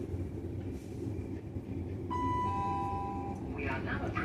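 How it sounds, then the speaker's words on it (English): Train pulling into the platform at Hurst Green station, a steady low rumble with a sustained high squeal of brakes or wheels midway, heard close and under ongoing speech. "We are now approaching Hurst Green. There we are, Hurst Green. The train at the platform."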